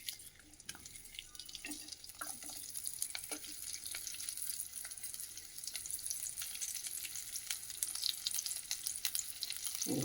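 Finely chopped onion frying in hot oil with asafoetida in a tempering pan for ridge gourd peel chutney, a soft continuous sizzle with scattered crackles and pops, close and fairly quiet, no talking.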